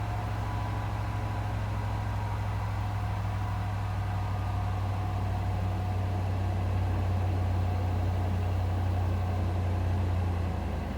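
A Ford vehicle's engine idles steadily after starting, a continuous low hum with a faint whine on top that stays even and unbroken throughout.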